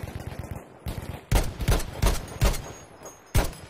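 Several loud, sharp sniper rifle shots in a video game ring out in irregular succession, each a sudden broadband crack, over low rumbling game background noise.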